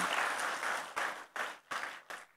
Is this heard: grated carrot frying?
no